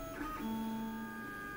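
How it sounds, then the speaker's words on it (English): Lulzbot TAZ 6 3D printer wiping its print head across a cleaning pad, a quiet close whir with a steady stepper-motor whine holding for about a second. "And then it wipes the head against the cleaning pad."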